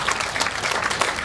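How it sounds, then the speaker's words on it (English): Audience applause at a live Tom Hingley tour show, a steady dense wash of clapping at moderate level, continuous through the short stretch. "so I think he should get a round of applause"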